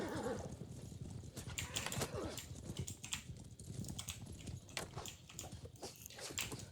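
Horses gallop and neigh during a video game battle involving horse archers, with busy hoof clatter and whinnies over a dense, continuous mix of game noise.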